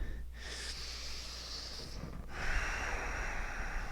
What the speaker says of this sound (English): Try to take those long inhales and exhales.